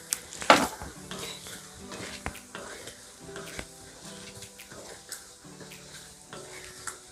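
A spoon scrapes and clinks in a wok with no oil, making soft, irregular knocks and stirring sounds at close range over a faint background.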